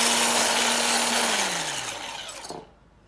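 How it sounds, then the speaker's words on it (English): Electric whisk beating cream or egg whites to soft peaks, a close buzzing whir that drops in pitch as the motor winds down, then stops abruptly. "Don't want to over whisk it, so I'll leave it at that."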